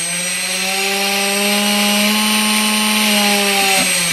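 A motor being balanced, with its throttle advanced: a loud, steady whine that climbs slightly in pitch over a few seconds, close and alone, with no talk.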